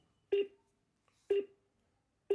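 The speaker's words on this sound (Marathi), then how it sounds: "बा असंच वाजत फक्त, फोन लागतच नाही" A phone ringback tone sounds on a call that is not getting through, three evenly spaced beeps about a second apart, clear and alone with near silence between them.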